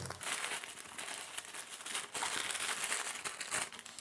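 Close crinkling and rustling of a small plastic packet being handled, irregular and continuous for a few seconds.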